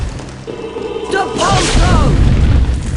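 A Depulso spell is cast in a Harry Potter PC game, building into a loud, booming whoosh with a low thud and swirling magical tones. It continues under a voice calling out.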